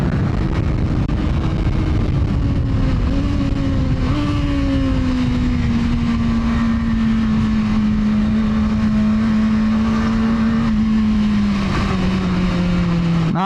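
A motorcycle engine holds high RPM on the Clark track session, a loud continuous droning whine close to the rider with small pitch shifts as throttle changes, no voices.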